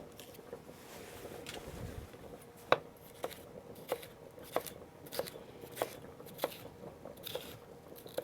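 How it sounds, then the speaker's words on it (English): A knife chops an orange bell pepper into chunks on a cutting board, giving crisp evenly spaced cuts about every half second, close and fairly quiet. "just cut it into chunks"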